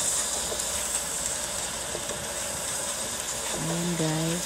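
Garlic sizzling in melted butter in a pan: a steady, close hiss throughout, with a voice briefly heard near the end.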